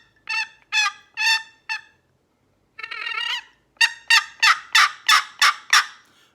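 A Woodhaven box call with a mahogany bottom and red heartwood top imitates a hen turkey. It gives loud, raspy yelps, first a run of four, then a drawn-out scratchy stretch, then a fast rhythmic series of seven close yelps.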